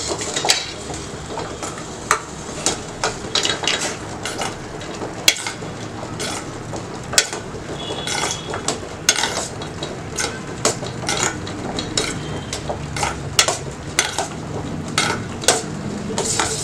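Melted neem soap base mixed with vitamin E being stirred slowly in a container, with repeated sharp clinks and scrapes of a utensil over a soft, steady background.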